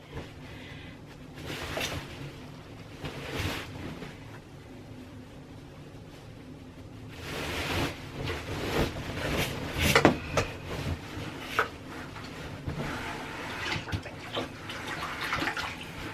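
Gray quilting fabric is pushed into a white bucket of water, making intermittent sloshing and swishing splashes up close, with a busier stretch of agitation in the second half.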